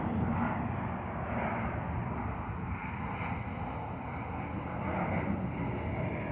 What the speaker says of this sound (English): Let's see if I can get this airplane.